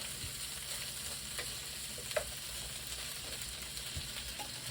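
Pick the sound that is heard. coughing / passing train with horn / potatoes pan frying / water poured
potatoes pan frying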